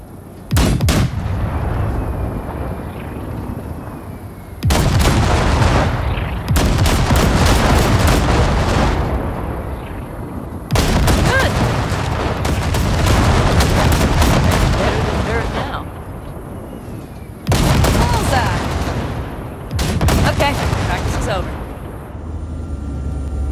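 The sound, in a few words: cargo ship guns blasting wrecks in Cyberpunk 2077 video game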